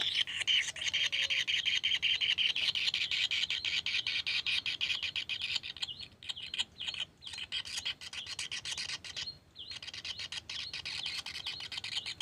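A young Tengkek kingfisher gives harsh, raspy squawks while feeding, a steady close scratchy calling with brief breaks, no talking.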